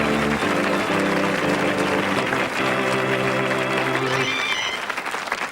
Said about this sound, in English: Please give Eddie Perfect a big round of applause.